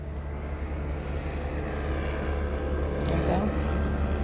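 A helicopter flying overhead near a museum, a loud, steady engine drone with a continuous low rumble that holds throughout and swells slightly toward the end.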